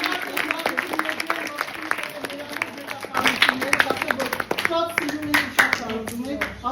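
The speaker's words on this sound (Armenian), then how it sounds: "Բարձր ծափարեք" An audience applauds at an Army Day event: dense, steady clapping from many hands that swells slightly midway and carries on throughout the clip.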